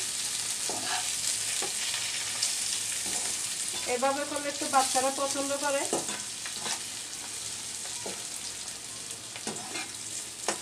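Pointed gourd (potol) sizzles as it fries in a pan and is stirred, giving a constant hiss with occasional utensil scrapes, while someone talks briefly over it midway.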